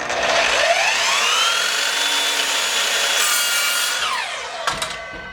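Evolution R255SMS-DB+ 10 inch miter saw spinning up and slicing through wood, a loud sustained whine that rises, holds steady through the cut, then winds down with a couple of clunks at the end.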